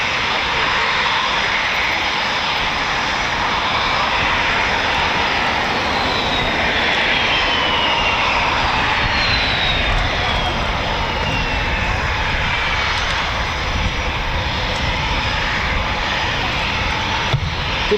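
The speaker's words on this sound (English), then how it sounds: "Those afterburners were just left on for pure light." Eurofighter Typhoon FGR4 jet engines with afterburners lit at RAF Coningsby, a loud continuous roar that fills the whole stretch with a steady, powerful rumble and hiss, no speech.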